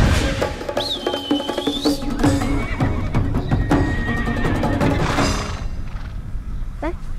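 Horses on the Hulunbuir grassland neigh and whinny in rising and falling calls over a busy layer of hoof thuds and clatter, close and loud, with voices mixed in.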